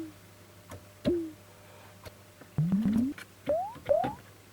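A Korg Minilogue synthesizer played without its oscillators, its envelope generator shaping the attack, gives short gliding blips that bend upward, some alone and some in quick clusters, close and clean over a faint steady hum.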